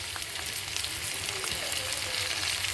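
Tomatoes added to a pan of light-brown fried onions and mustard seeds for an okra and dried-fish curry sizzle and crackle steadily, with scattered sharp pops over a continuous frying hiss, close and fairly loud.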